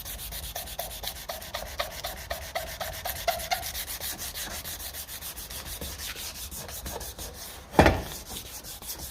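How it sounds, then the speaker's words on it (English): Sandpaper rubs back and forth over a metal exhaust heat shield for a 1954 Ferguson 20 TEF diesel tractor, a steady close scratchy rasping in even strokes, ending with a single sharp knock. "take a bit of that out with the sandpaper"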